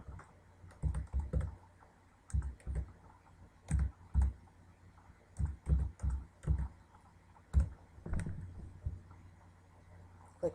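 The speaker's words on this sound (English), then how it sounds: "So click Next, type in the IP address," Keyboard typing and mouse clicks while entering a printer IP address on a Windows Server 2008 computer, heard as clustered bursts of close, moderately loud keystrokes and clicks with short pauses between them.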